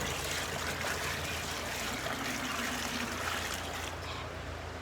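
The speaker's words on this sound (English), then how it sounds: "Okay, pouring it in." Liquid poured outdoors into a garden bed, a steady broadband trickle and splash running continuously for about five seconds, fairly close and even in level, with no talking over it.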